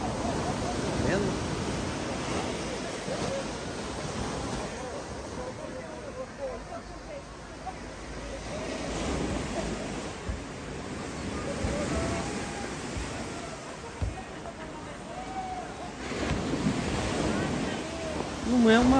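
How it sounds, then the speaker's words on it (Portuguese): Ocean surf rolls onto the small beach of Praia do Éden in Guarujá, a continuous wash of breaking waves with gusts of wind buffeting the microphone, steady and moderately loud throughout. "Uma praia bem pequena."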